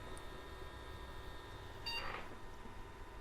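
A single short electronic motherboard POST beep from an Acer PC sounds over a steady fan hum, brief and fairly quiet.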